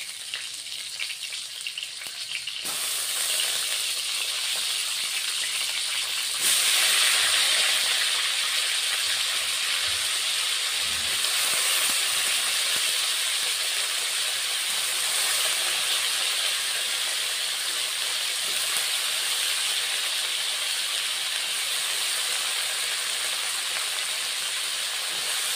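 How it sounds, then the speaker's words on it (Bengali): Potato and cauliflower pieces drop into hot oil in a wok, and a sudden loud, hissing sizzle swells up and then holds as a steady, close roar of frying for the rest of the time. "এবার আলু আর ফুলকপিগুলি ভেজে নিব।"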